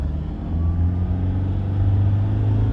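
A 2015 Toyota Innova diesel car drives along with a steady low engine drone and road rumble, struggling to gain speed with the pedal pressed fully down, heard from inside the cabin with no talking.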